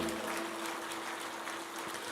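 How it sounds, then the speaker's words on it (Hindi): Steady audience applause at a spiritual gathering, a dense, even wash of clapping with a faint sustained tone beneath it. "एक बार सभी एक दूसरे के उत्साहवर्धन में तालियों की गड़गड़ाहट करें"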